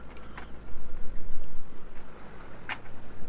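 A sailing yacht motoring on its engine in near-calm wind at sea, a steady low rumbling drone with water sloshing against the hull and a couple of brief higher knocks.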